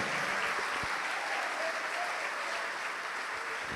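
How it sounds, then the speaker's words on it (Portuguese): A church congregation applauds in a steady, dense wash of clapping that holds evenly throughout, fairly close and without talk over it. "Vamos aplaudir mais,"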